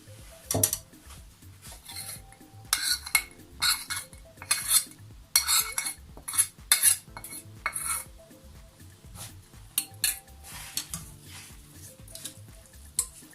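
Boiled pasta being tossed with melted butter and spices in a deep bowl, utensils clinking and scraping against the dish in irregular bursts, fairly close, with no talking.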